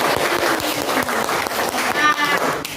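Audience of women clapping together for a group activity, a steady dense round of applause lasting throughout with some voices mixed in.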